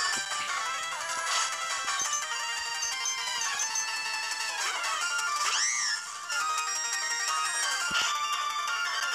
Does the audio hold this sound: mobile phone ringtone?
yes